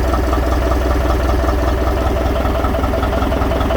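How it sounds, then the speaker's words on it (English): A steady, loud engine idling up close on its new mounts after repair, with a constant low rumble and faint mechanical clatter throughout, no voices. "The engine just floats in those mounts beautifully."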